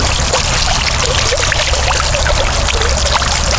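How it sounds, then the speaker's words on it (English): Water from a rock fountain splashes and pours continuously over stone, leaping off the rock at three spots, a loud, steady rushing with faint trickling droplets, close by and without voices. "there's 3 different spaces where the water actually jumps away from the rock"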